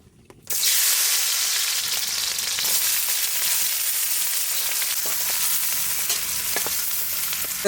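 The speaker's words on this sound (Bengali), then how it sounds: "এখন আমি তেলের উপরে পেঁয়াজের পাপড়ি আর ক্যাপসিকামটা ভেজে নেব" Onion petals and capsicum hit hot mustard oil with a sudden loud burst of sizzling that settles into a strong, steady hiss of frying, close and uninterrupted, with no talking.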